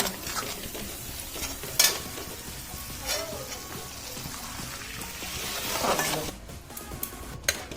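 Prawn curry base sizzling and frying in oil in a pan with steady stirring and scraping, occasional clatter of a spoon against the pan, no talking.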